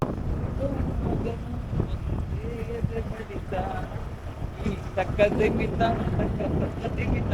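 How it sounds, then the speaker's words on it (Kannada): Steady wind rushes and buffets throughout on Shivagange hill near Tumkur, a continuous broad roar with a few faint tonal bits mixed in, close and fairly loud. "ನೋಡಿ ಈ ಗಾಳಿ ಎಷ್ಟು ಚಿಲ್ಲಾಗಿದೆ"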